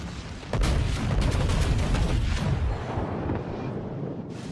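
Battleship Kongo's main guns fire in the World of Warships video game, opening with a huge close boom and giving way to a long, dense rolling rumble of cannon blasts that fades slowly, with no talking.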